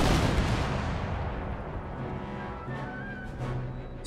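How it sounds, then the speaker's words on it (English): Hand mortars firing in the strategy game Empire: Total War, a heavy rumbling barrage of booms and explosions that is loudest at the start and continues as a dense battlefield roar. "Hand mortars are coming back."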